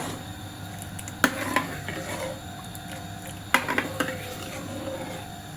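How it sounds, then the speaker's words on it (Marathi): Pumpkin soup being stirred in a cooking pot, with a spoon knocking against the pot twice in sharp clinks over a soft steady background of scraping and bubbling, with no voices. "आपण हे व्यवस्थित मिक्स करून घेऊया"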